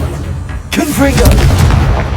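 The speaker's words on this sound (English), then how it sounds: "Confringo!" A Confringo explosive spell goes off in the Hogwarts Legacy video game, a sudden loud burst that breaks a quieter stretch, then booming crackle and rumble that carry on to the end.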